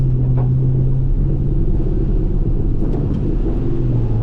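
An HSV VP Senator car hums with a deep, steady engine rumble from inside the cabin, the pitch shifting slightly as the transmission changes gear, with no voices heard.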